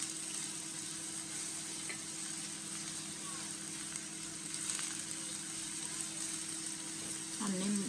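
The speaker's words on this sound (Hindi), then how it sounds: "प्याज को हम थोड़े से फ्राई करेंगे" Onions frying lightly in a pan give a steady, faint hiss of sizzling oil throughout, with a brief stir or shuffle near the end.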